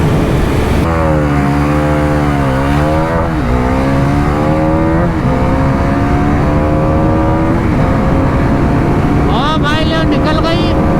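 Triumph Speed 400 and Bajaj Pulsar NS400 motorcycles accelerating side by side, loud close engine roar climbing through the gears with repeated upward pitch sweeps, a higher whine near the end, and someone talking over it.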